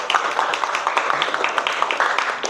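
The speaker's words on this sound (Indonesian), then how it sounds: "Oke, boleh tepuk tangan dulu." Students in a classroom clap together after a lesson, a steady patter of many hands at moderate volume, continuous for a few seconds with no talk over it.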